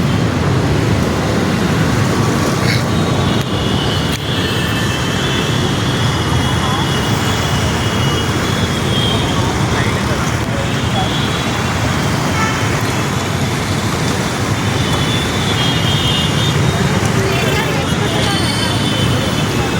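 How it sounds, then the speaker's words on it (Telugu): Steady road traffic noise in a traffic jam, a continuous broadband wash of car and vehicle engines with background voices and crowd babble running throughout. "ట్రాఫిక్ జామ్ అవుతుంది."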